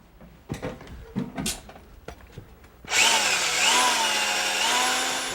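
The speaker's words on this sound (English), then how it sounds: "we're going to drill up in the attic with that" A power drill fitted with a long flexible piano-wire bit bores up into an attic during a residential retrofit, starting with a few knocks and scrapes, then whirring loudly and steadily with a slight pitch dip as it bites.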